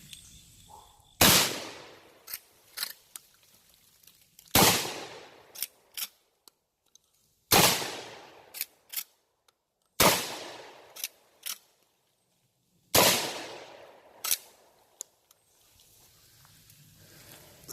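Chiappa 1887 Mare's Leg lever-action shotgun firing buckshot and then number 6 shot, five loud sharp blasts spaced a few seconds apart outdoors, each followed by clacking lever cycling and brief echo.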